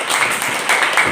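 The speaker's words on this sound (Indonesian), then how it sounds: "Tepuk tangan untuk kelompok 2" A classroom of students applauds a presenting group with a brief burst of dense, continuous clapping that stays fairly loud and even throughout.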